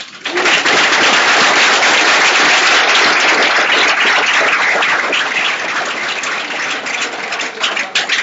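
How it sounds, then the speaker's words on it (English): Loud, dense applause from a startup weekend presentation audience, sustained heavy clapping that fills the room and eases slightly toward the end. "I want to give a huge round of applause"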